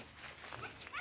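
A young Vietnamese hunting-breed dog gives short, close yips and whimpering barks in a quick burst of about a second, with light background noise and no talk over it.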